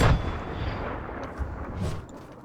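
A grenade explodes in a video game on a practice map, a deep, heavy boom at the start that rolls off into a low, fading rumble, with no speech.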